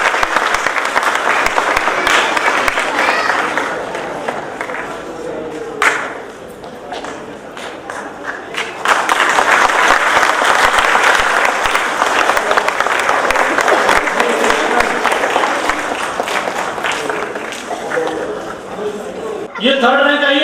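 Sustained applause from an audience at an Ambedkar Jayanti prize ceremony as young award winners come to the stage, clapping steady and full for most of the stretch with a brief dip and murmur of crowd noise mid-way.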